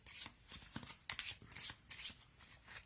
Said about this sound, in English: They are so small, it's very easy to shuffle them like this.